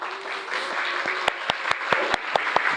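A church congregation applauds in welcome during a worship service, a soft crowd murmur giving way to sharp, close individual claps in a loose rhythm over the applause.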